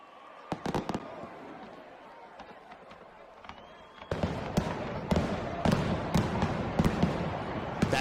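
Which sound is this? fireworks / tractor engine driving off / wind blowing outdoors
fireworks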